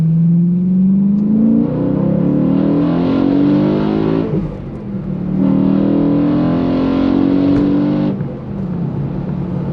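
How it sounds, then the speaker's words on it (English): A 2013 BMW M3 Lime Rock Park Edition accelerates hard up a highway on-ramp, its engine rising loud and close through two long revving pulls with a brief dip between gear changes. "This car has a lot of engine noise."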